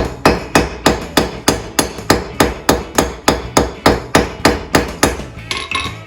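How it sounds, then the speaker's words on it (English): Blacksmith's hammer peening bolt jaw tongs on an anvil, a steady run of about fifteen loud, evenly spaced ringing strikes, close and alone. "flip them over and peen that just a little bit, just enough to get it started so we can hold it in the fire"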